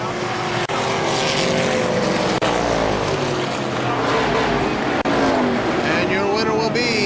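Race cars roaring around the KilKare Speedway oval in a final-lap battle for the lead, a dense, continuous engine drone with shifting pitch that stays loud throughout, with an announcer talking over it.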